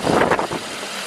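A 2011 Ford F450 with a 6.7 liter engine idles nearby, a steady broadband rumble with some wind buffeting at the microphone over a short stretch.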